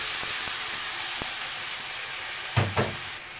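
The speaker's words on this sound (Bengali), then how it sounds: "বেগুন আলুগুলো সব দিয়ে দিচ্ছি এখন," Eggplant and potato pieces drop into a hot pan of curry with oil, bringing a steady broad sizzling hiss and a couple of soft thuds near the end.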